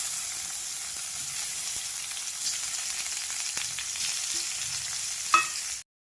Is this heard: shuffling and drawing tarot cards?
no